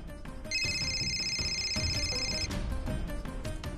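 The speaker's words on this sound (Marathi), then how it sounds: "फोन." A telephone rings in a Marathi TV serial scene, one steady electronic trill lasting about two seconds over a background of dramatic music and thumps.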